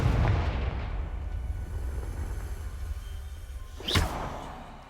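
A Confringo blasting spell goes off in Hogwarts Legacy as one sharp burst near the end of the clip. It sits over a dense, rumbling game ambience, and nobody speaks.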